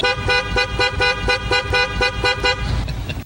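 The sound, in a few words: car horns honking in traffic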